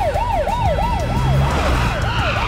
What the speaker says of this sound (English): Medics, sirens away